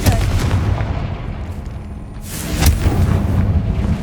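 Confringo fire blasts from the Hogwarts Legacy video game go off repeatedly in loud booming bursts, one stronger blast standing out midway, with no talk over them.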